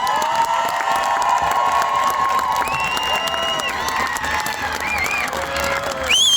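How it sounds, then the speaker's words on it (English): A large crowd at a high school band review at Freedom Field stadium cheers and applauds in a sustained, loud wash of noise, with whoops and shouting voices carrying over the steady clapping. "Let's hear a cheer for St."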